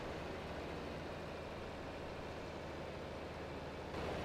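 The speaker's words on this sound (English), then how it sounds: "Come on, little tractor." A little tractor engine labors uphill in a farming video game, a steady low droning rumble with broad noisy texture, constant and moderately quiet throughout with no talking.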